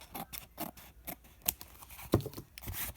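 Scissors trimming a craft box, a series of close, crisp snips and rustling cuts in an uneven rhythm, about eight to ten strokes with no talking.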